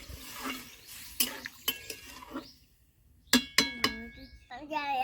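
A spatula stirs egg curry in a pan, giving several sharp metallic clinks and scrapes in short bursts, separated by quiet gaps, with a voice speaking between the strokes.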